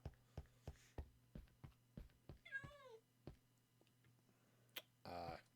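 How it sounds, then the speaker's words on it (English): A cat meows in the video game Minecraft: one wavering meow midway and a purring, meow-like call near the end, over soft rhythmic clicks and a low hum. "Oh, that's a cat in there."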